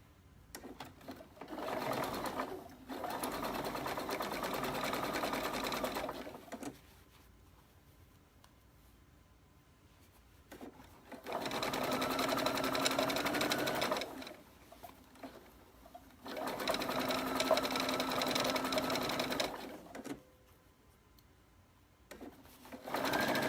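A home sewing machine stitches trim onto a jeans hem in several bursts of steady whirring, each lasting a few seconds, separated by quiet pauses with faint handling noise.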